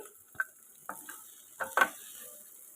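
Ingredients for a tomato, sesame, curry leaf and coriander chutney frying in a kadai, heard as a few sharp, separate scraping stirs and clinks over a faint sizzle; no talking.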